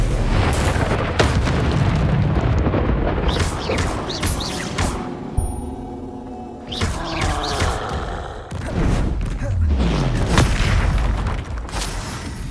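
Confringo fire spells burst repeatedly in a Dark Arts Arena fight in Hogwarts Legacy, a loud, dense run of booming blasts and crashes with a brief lull midway before more explosions follow.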